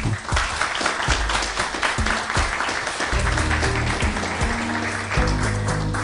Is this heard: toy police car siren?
no